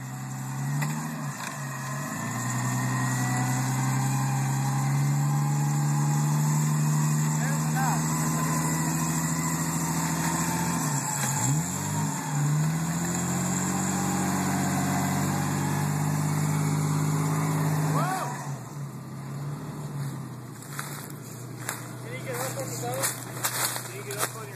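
Vehicle engine straining as it climbs a hill, a loud sustained rev with the pitch dipping and rising, then easing off near the end, with people talking over it.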